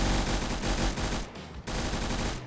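Rapid automatic weapon fire in a Roblox shooter game, a dense continuous burst with a brief gap midway, loud and close, no voices.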